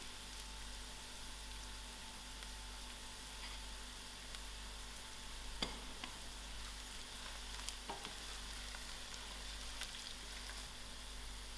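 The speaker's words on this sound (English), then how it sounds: "And thereafter I'm going to add in my garlic." Garlic sizzles and fries steadily in a hot pan, a constant crackling hiss with a couple of sharp spatters partway through, cooked for a yellow green-banana fry.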